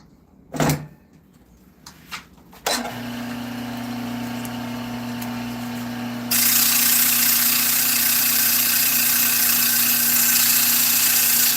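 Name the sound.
wood lathe running while sanding a bead spinner interior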